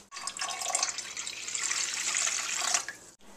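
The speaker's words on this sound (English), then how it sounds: "Pour 4 cups of unsweetened apple juice into a boiling water." Four cups of unsweetened apple juice pour into a pot of boiling water as a steady, close liquid stream lasting about three seconds, then stopping, with no talking.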